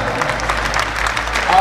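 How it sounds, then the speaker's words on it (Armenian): A crowd gives loud, continuous applause to honour the legendary Ararat 73 footballers, a dense wash of clapping with a voice speaking over it. "Այս բարձր ծափահարությունները, ավելի բարձր ծափահարությունները ունենք ձեզ։"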